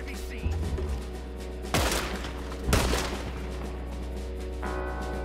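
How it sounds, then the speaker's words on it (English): Gunfire rings out in Red Dead Redemption 2, two loud sharp shots a second apart with lingering echo, over steady game music and a low drone, with a voice speaking briefly. "Another gunfight."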